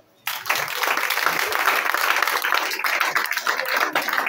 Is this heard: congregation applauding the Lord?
yes